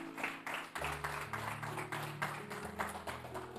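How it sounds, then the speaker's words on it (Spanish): A church congregation claps in a steady run of applause over low organ or keyboard chords, the claps close and rhythmic throughout. "Dale un aplauso al que viva"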